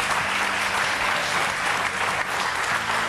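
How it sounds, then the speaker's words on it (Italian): Dense, loud applause from a studio audience on an Italian football comedy show, continuous clapping filling the whole stretch without pause. "Un altro applauso per il fantastico dottor Benny Carbone."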